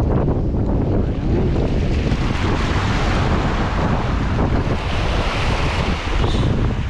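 A continuous wash of ocean waves and surf mixed with heavy wind rumble, loud and unbroken throughout.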